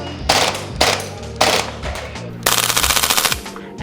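An Archwick B&T APC9-K gas blowback airsoft gun fires close and loud: three sharp single shots with snappy bolt clacks, followed by a fast rattling burst of full-auto fire.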